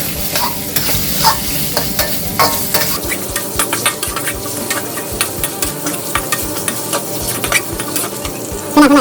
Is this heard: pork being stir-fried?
yes